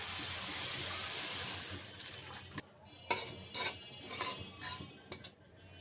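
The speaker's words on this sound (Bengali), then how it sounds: "মশলাটা কষানো হয়ে গেছে, এখন অল্প পরিমাণে পানি দিয়ে দিব।" Water poured into a pan of fried spice paste in a home kitchen, a loud rushing pour for the first two and a half seconds, then sizzling and bubbling with a few scrapes as it settles.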